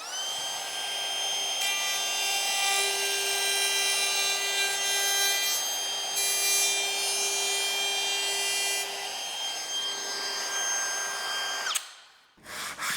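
A router fitted with a rabbeting bit cuts a shallow rabbet into the end of a wooden board, a steady high-pitched whine with a continuous cutting rasp for several seconds before spinning down and stopping.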